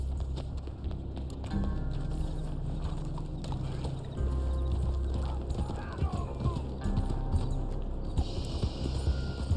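A Black Arabian horse's hooves clatter rhythmically at speed in Red Dead Online, close and continuous over a droning game ambience, with a brief whinny-like cry partway through.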